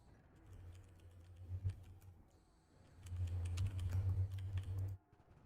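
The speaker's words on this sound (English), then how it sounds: "My keyboard loud, guys?" Quiet, close computer keyboard typing during a gaming session: two bursts of soft, rapid key clicks separated by a brief lull, with no voices.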